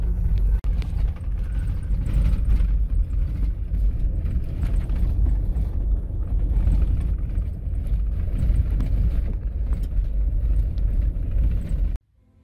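A car rolls down a washboard dirt road descending into the Grand Canyon, giving a steady, loud low rumble with constant rattling and jostling throughout, then cutting off abruptly near the end.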